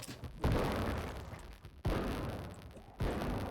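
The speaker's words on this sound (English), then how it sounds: "That gunshot is a problem." Three loud booming gunshot blasts in the Project Zomboid video game, spaced about 1.4 seconds apart, each with a sharp onset and a long rumbling decay, close and heavy.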